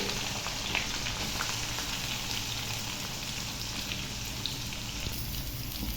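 Finely chopped onions frying in a pan with dried red chillies and curry leaves, giving a steady, close, even sizzle with faint crackles and no talking.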